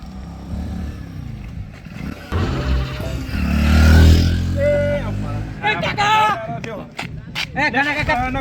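A motorcycle engine rumbles, swelling louder mid-clip as it comes close, then fades, with several people talking and calling out around it.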